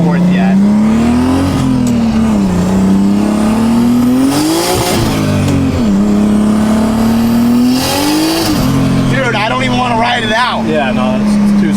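Turbocharged 450 hp BMW E30 pulling hard through the gears, its engine drone loud and close, climbing steadily and then dropping sharply at each shift before rising again.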